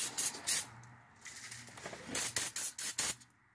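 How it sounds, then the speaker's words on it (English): Bursts of penetrating spray from an aerosol can aimed at the nuts on a 2000–2006 Chevy Tahoe front differential, several short hissing squirts in a loose rhythm, close and fairly loud. "Okay, spray it on both sides."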